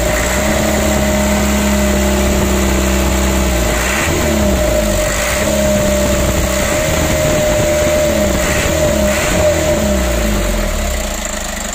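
A car engine with a 120 PS fuel nozzle setup idles loudly up close, then is revved several times in short rises and falls, with a steady whine running throughout.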